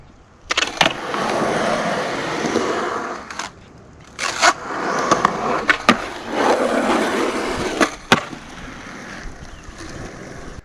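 Skateboard wheels roll and rumble over a skatepark surface during a nose manual attempt, with two long rolling stretches and sharp clacks and knocks as the board's tail and trucks hit the ground.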